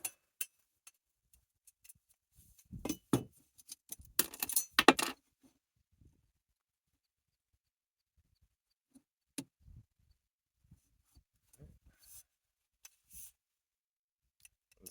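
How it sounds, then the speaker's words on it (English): Small broken glass bits being picked out of a handle and mounting brackets, heard as scattered light clinks, scrapes and ticks, a busy cluster of close rattling followed by sparse faint taps, with no talking. "Got to get the last bits of the glass out of the handle and off the other mounting brackets"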